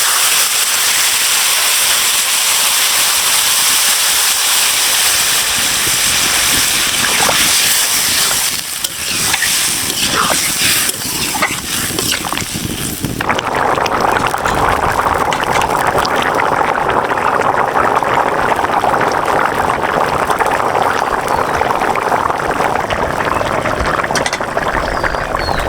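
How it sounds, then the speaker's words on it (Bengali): Water pours into a pumpkin and sweet potato fish curry, a loud steady rushing sizzle that shifts into a brighter, fuller bubbling hiss partway through. "পরিমাণ মতো এখন জলটা দিয়ে দেবো।"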